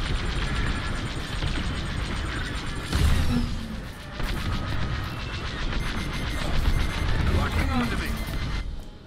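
Starfighter laser cannons fire at long range during a Star Wars Squadrons multiplayer dogfight, a dense rumbling stream of shots and booms with bursts of louder blasts, mixed with engine roar and a voice over the top.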